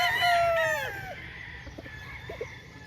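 Roosters and chickens at a Filipino poultry yard: one loud crow with a second overlapping at the start, then scattered short clucks over a low rumble of background noise.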